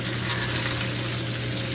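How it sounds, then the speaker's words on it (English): Ice cubes hit a hot pan of frying chicken thighs, setting off a loud, continuous hissing sizzle that stays even and close throughout. "Yes, you are seeing me put ice cubes in the pan."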